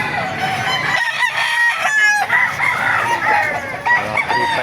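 Several roosters crow loudly and repeatedly at an outdoor chicken market in Baliuag, overlapping calls close by with clucking fowl and market bustle underneath.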